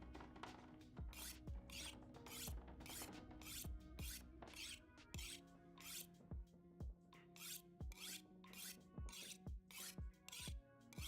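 A hatchet being sharpened on a whetstone in the game The Long Dark, a quiet series of repeated rasping strokes, roughly one per second, each ending in a short metallic scrape.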